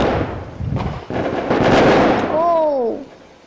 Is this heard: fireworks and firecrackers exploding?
yes